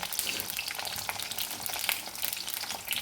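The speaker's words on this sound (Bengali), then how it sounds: "আলুগুলো ভালো করে ভেজে নেব পুরো লাল লাল করে" Potatoes fry in a pan for vegetable khichdi, a soft continuous sizzle with crackling pops and occasional stirring, quiet and close, with no voices.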